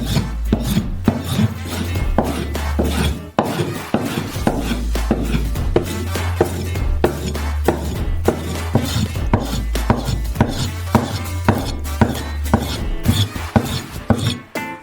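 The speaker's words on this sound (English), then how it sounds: "Cut them into small cubes." A knife dices the dense outer flesh of vegetables into small cubes on a board, giving rapid, loud, irregular chops with rasping scrapes, close up and continuous with no talk.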